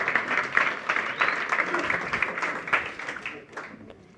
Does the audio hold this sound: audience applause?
yes